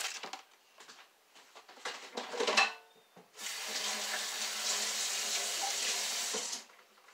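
A kitchen faucet runs steadily for a few seconds as hands are washed, a bright continuous hiss of water preceded by scattered clinks and handling noises at the sink.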